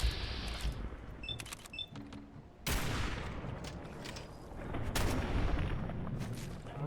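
Gunfire and combat during a Fallout 4 fight against anglers in Far Harbor, with sharp blasts and crackling bursts over rumbling background noise and a few faint electronic chirps.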